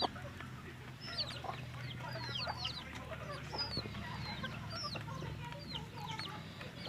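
Chicks clucking and peeping in cold weather, many small high chirps overlapping in quick irregular bursts close by, with a low background hum.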